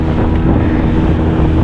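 An outboard engine on an inflatable boat runs steadily, a continuous low rumble mixed with wind buffeting the microphone.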